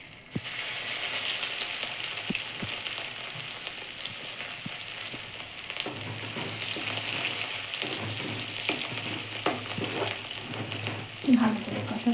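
Garlic fries in a pan with a steady close sizzle, broken by scattered clinks and scrapes of stirring, and a brief louder clatter near the end.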